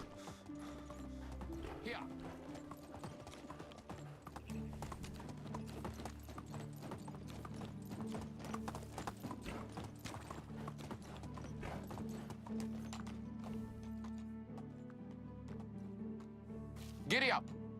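Hooves of a horse in Medieval Dynasty clip-clop in a quick, even rhythm close by for the whole stretch, with a brief whinny near the end and someone talking over it.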